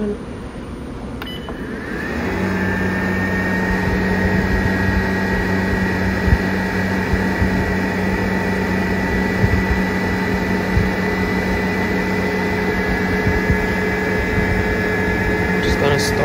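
A treadmill and a fan start up indoors, a steady loud mechanical drone with a whirring motor tone that settles into a constant hum after a couple of seconds, with faint beeps.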